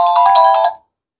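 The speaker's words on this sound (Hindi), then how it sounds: "मैसेज आ गया है" A message notification tone on an itel Super Guru 4G feature phone: a loud, bright electronic chime with ringing tonal layers that lasts under a second, then cuts off into silence.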